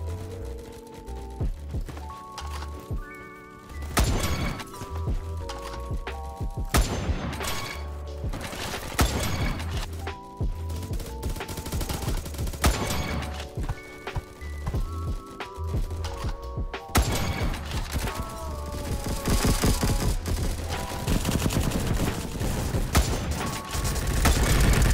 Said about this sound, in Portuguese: Eu tentando acertar eles de sniper.